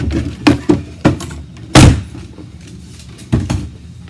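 A sticking wooden drawer yanked and shoved, a series of loud close thumps and knocks with one heavy bang in the middle, no talking.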